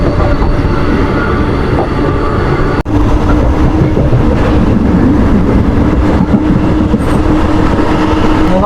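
A local train running from Bardhaman to Durgapur, India, at night rumbles along the tracks near Mankar railway station, loud and close, with a steady rattling roar and wheels clacking throughout.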